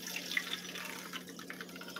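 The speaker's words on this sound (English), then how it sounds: "Yeah, I added water." Water pours from a tap into a pot of pea soup, a soft, steady trickle with faint drips, quiet and close, with no talking.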